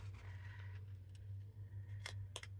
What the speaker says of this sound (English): I can come in with the little snipper scissors